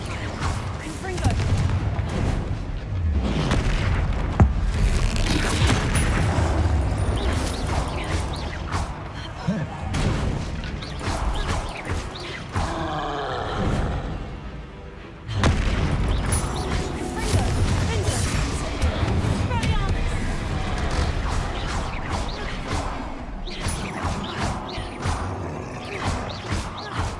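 Repeated Confringo blast spells explode one after another in Hogwarts Legacy, loud crashing bursts layered with other spell effects and a steady game soundtrack, continuing almost nonstop.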